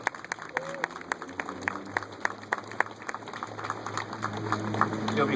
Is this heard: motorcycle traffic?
no